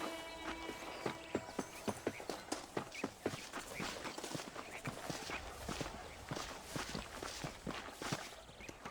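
Horse hooves in the video game Red Dead Redemption clip-clop at a steady walking pace, a crisp rhythmic series of hoof falls close by, with a faint ambient bed behind them.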